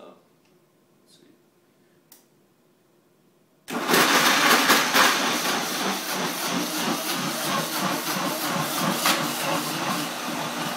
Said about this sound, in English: You can do this with a normal blender as well, especially if you're taking the stems out. And then just blend it down.